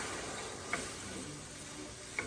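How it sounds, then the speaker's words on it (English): Rice sizzles steadily in a hot pan, a soft continuous crackle with a couple of faint clicks of a utensil. "There's that sizzle."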